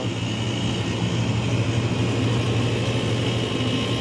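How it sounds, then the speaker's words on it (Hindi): Carrier window air conditioner in cooling mode, its compressor and condenser fan running at full speed with a steady, loud, continuous hum and low tonal drone, unbroken throughout. "कंप्रेसर का साउंड एकदम नॉर्मल है। कंडेंसर फैन हमारा बेहतरीन फुल स्पीड में चल रहा है"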